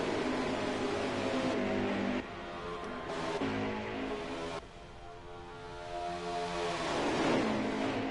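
Race cars circling in the NASCAR Heat 5 video game, a steady droning engine roar from a pack of cars at Daytona, continuous and fairly loud with small shifts in pitch and level, no talk.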